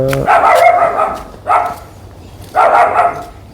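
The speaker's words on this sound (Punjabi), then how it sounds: "ਮੇਰਾ ਕੁੱਤਾ ਚੁੱਪ ਕਰਾ" A dog barks loudly three times, close by, each bark a short rough burst with pauses in between.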